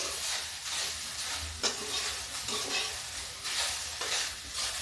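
Okra (bhindi) is stirred and dry-fried without oil in a pan at home, giving a steady crackling sizzle with scraping stir strokes recurring every second or so, close and alone.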